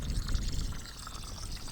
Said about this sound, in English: this is leaking water.